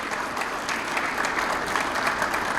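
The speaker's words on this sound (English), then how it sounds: "give our Main Street Director, Jessica Rucker, and all of her efforts in Main Street and our downtown business owners a round of applause" An audience at a city's state-of-the-city address applauds in a dense, steady round of clapping that holds at an even level throughout, with no speech.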